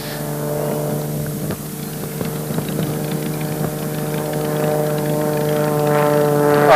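A single-seat CAP 21 aerobatic airplane runs up its engine at the holding point before takeoff at a national aerobatics contest on the Alfina plateau, giving a steady droning hum that slowly grows louder.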